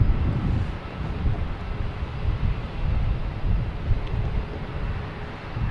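A Lufthansa Airbus A340 airliner at Boston Logan Airport, a broad low roar of jet engines heard from a distance and blurred by wind buffeting the microphone, continuous with no talking.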